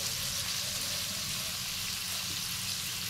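Vegetables for veg fried rice frying in a pan, a steady, close hiss and sizzle of hot oil that continues evenly without pause and with no talking.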